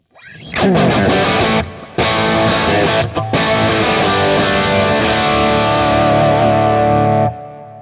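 Heavily distorted electric guitar plays sustained chords with two brief pauses, loud and saturated, ringing out before cutting off at the end.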